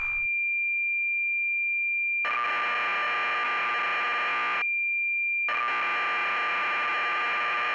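A patched B-Em BBC Micro emulator producing its cassette tape signal: a clean carrier tone switches to dense warbling data bursts, briefly back to the tone, then more data, all loud and alone.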